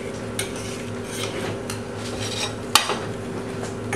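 Colander tapped while straining a rich stewing sauce for navarin of lamb, mostly quiet kitchen clatter with a few light metallic knocks and one sharp clear tap near the end.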